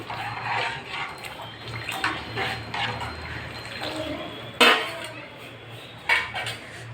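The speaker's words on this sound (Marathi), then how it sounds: "मी याच्यामध्ये हा कट ओतून घेते" Spicy Kolhapuri misal gravy pours into a bubbling pot with a steady hiss of boiling, broken by two sharp metallic clanks of a utensil against the pan near the end.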